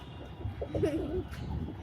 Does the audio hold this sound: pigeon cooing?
yes